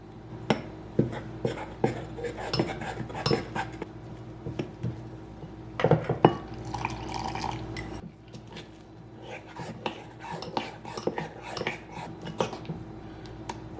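Repeated soft clinks and scrapes of a spoon against a bowl, steady stirring of boondi batter as water is poured in, with occasional splashy bursts, close by, no talking.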